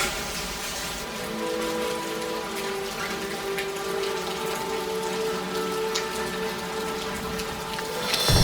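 Steady rain falls in a rainforest, a dense, even hiss of drops on leaves and surfaces that holds for several seconds and swells slightly at the end.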